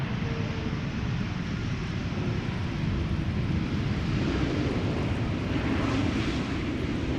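A KLM Embraer E2 jet arriving from Berlin at Schiphol Airport gives a continuous broad engine roar, steady and fairly loud throughout, with some wind noise on the microphone.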